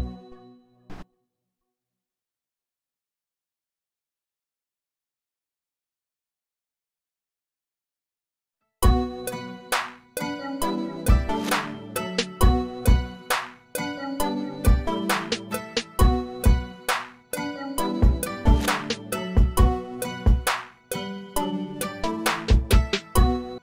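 Beat produced in Cubase, with a brief reversed sample swelling in right before a clap, then a laid-back drum groove of punchy kicks, claps and hi-hats over melodic layers, loud and steady with no talking.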